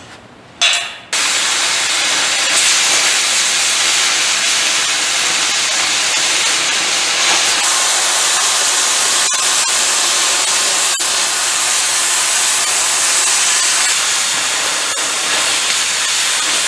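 A power tool bites into steel plate for a homemade gooseneck trailer, a loud, continuous harsh hiss of cutting that runs almost unbroken after a short pause near the start.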